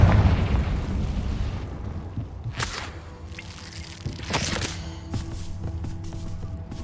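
A Confringo fire spell explodes in Hogwarts Legacy, opening with a booming blast that decays into crackling bursts and scattered pops, with further smaller impacts following.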